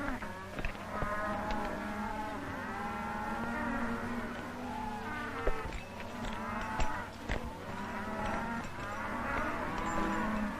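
Penned cattle in a 1940 western low repeatedly, with long overlapping moos rising and falling across the whole stretch over a steady background hum.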